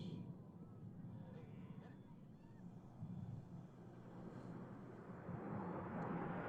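Blue Angels jets flying a diamond aileron roll at a practice show: a steady, distant low jet roar rumbles throughout, swelling slightly toward the end, with some wind noise.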